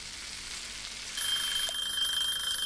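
Food sizzles in a pan in the video game Cooking Simulator, a steady hissing fry that grows a little louder partway through, with a thin high electronic tone above it.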